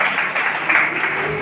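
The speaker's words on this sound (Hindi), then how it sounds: "एक बार फिर से तालियों से इनका।" An audience at a children's poetry recital in a Kanpur school claps together in a steady, full round of applause, loud and close, with no talking.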